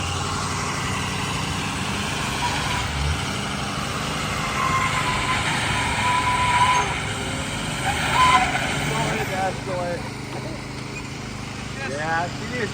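Diesel truck engine idling and creeping while maneuvering in a tight parking lot, a steady low rumble with a few squeaks and clunks toward the end, close by.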